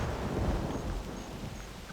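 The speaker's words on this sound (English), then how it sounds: "Jeez, almost sounds like the lightning striking the ground" Thunder from lightning rumbles low and continuous during an outdoor rainstorm, with the steady hiss of rain over it and no voices.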